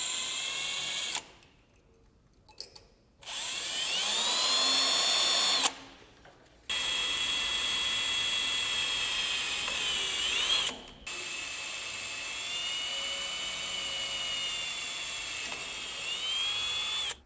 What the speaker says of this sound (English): pull the light away from the trailer and pre-drill those holes as well